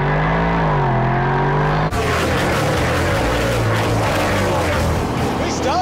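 A Mercedes AMG car engine revs loudly: a rising, throaty tone gives way to a full, roaring surge that holds steady close by.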